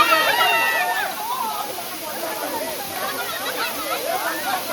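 Rushing water at Nhavankond waterfall, a steady broad wash that stays loud throughout, with several people talking and shouting over it nearby.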